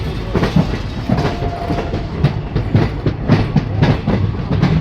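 The Kanchankanya Express from Alipurduar to Sealdah rolls along the rails with steady rhythmic clickety-clack of wheels over joints and a continuous low rumble, close and loud throughout.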